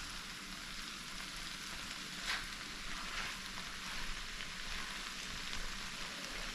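Okra frying in a large pan, a steady soft sizzle and crackle throughout with faint stirring noises, no voices.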